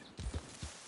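A horse's hooves in Red Dead Redemption 2 clip-clop in a few quick, close, muffled steps as the animal starts off.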